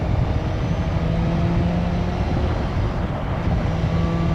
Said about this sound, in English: this bike is really rather rapid when you give it the beans.